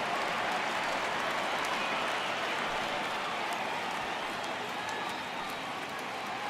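A stadium crowd in the MLB The Show 18 baseball video game, Yankees at Red Sox, rises and roars on a full 3-2 count, a dense, steady wall of cheering and applause that holds loud throughout.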